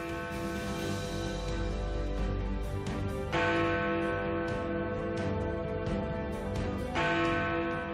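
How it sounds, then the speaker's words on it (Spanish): A large cracked clock tower bell tolls with a harsh, jangling ring, struck twice with long, buzzing resonance hanging between strikes. "quedó la rotura dándole a la campana su sonido característico"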